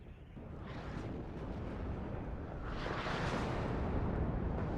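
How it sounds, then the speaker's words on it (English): Artillery fire rumbles across the battlefield in the strategy game WARNO, a continuous dense roar of distant blasts and explosions that swells louder toward the end, with no voices. "Artillery fire coming across the map, going for that artillery piece again."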